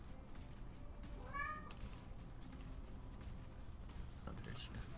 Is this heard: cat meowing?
yes